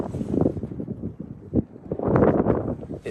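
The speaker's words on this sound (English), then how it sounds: "It's nippy and windy, as you can probably hear" Strong wind sweeps across an exposed hillside in Wales, roaring and buffeting the microphone in uneven gusts that swell and ease throughout.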